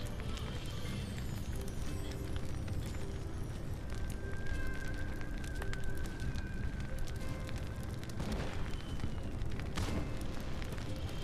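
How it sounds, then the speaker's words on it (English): Fireworks burst over a desert town in the video game My Time at Sandrock, a dense crackling and popping wash with scattered sharper bangs, set against a continuous background bed of sound. "I'm going to watch the fireworks coming in."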